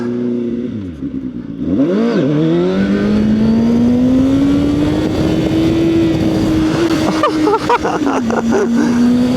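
CFMOTO 750SR-S motorcycle revving sharply then pulling hard in first gear for wheelie attempts on a street, engine pitch rising loudly and steadily up close, followed by a few throttle blips.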